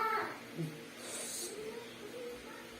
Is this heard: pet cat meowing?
yes